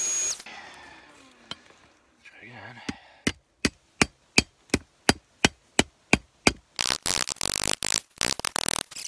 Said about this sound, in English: Much more solid blows here than the other setup with the ball peen hammer.